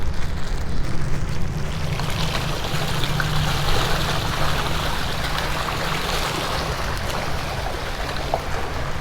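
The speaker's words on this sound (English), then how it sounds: "when you throw food in and they come to the surface, the water just bubbles" Fish in a pond at Hat Yai Municipal Park rising to the surface for thrown fish food, the water churning and bubbling in a steady wash that runs unbroken under outdoor wind noise.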